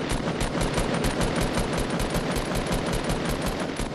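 Rapid automatic gunfire from a video game battle royale duo squad match, loud and continuous with dense evenly spaced shots throughout, no talking.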